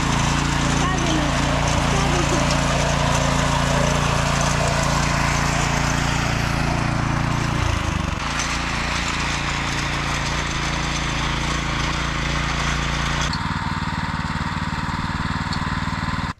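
A loud motor hoe engine churns steadily and continuously up close while tilling soil, with a brief dip midway, while voices are faintly audible underneath.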